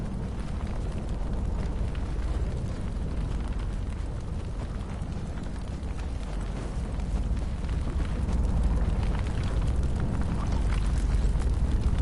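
In a video game, a destroyed target explodes into a long, deep rumbling roar that stays loud and sustained for the whole stretch, with no voices over it.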